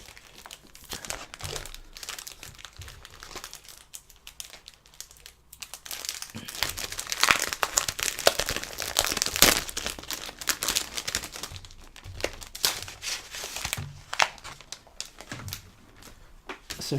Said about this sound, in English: So go ahead and unwrap this.